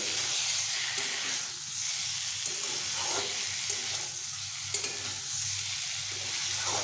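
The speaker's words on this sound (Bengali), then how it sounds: "কুমড়োগুলো দেবার পরে এইভাবে একটু আমি নেড়ে নেবো" Fried pumpkin pieces are stirred back into a pan with tempered spices, a close, even sizzle and hiss broken by rhythmic scraping strokes of the spatula, with no talking.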